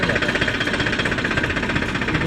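A diesel farm tractor engine idles with a fast, even knocking chug, close and steady throughout, just after refuelling.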